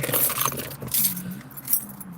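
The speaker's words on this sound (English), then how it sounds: "you got the keys again." A bunch of keys jingles and clinks steadily for a couple of seconds, close by, with a car engine humming faintly in the background.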